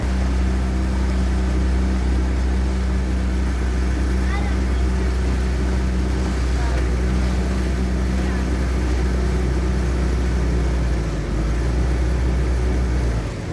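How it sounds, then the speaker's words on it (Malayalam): Boat ride on a backwater, a loud, steady engine drone with water rush continuing throughout, voices talking faintly underneath. "ഇതാ ഇപ്പോൾ നമ്മൾ ബോട്ടിൽ കയറിയിട്ടുണ്ട്"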